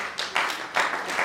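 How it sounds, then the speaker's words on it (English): A charity foundation gathering in Ghana applauds, with a few quick bursts of hand clapping close together over little more than a second. "So I want us to just give a hand of applause for this love."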